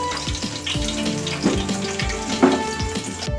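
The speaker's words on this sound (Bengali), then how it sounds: "এভাবে আমি চিকেনগুলো সব ভেজে নেব।" Chicken pieces frying in hot oil in a home kitchen, a steady close sizzle with occasional louder crackles and soft stirring knocks, no voices.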